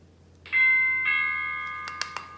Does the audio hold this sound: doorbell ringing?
yes